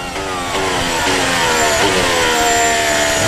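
A loud, high-pitched Formula 1 car engine screams as it accelerates toward the hairpin during practice at the 2026 Japanese Grand Prix, pitch climbing steadily through the revs, close and continuous with no voices.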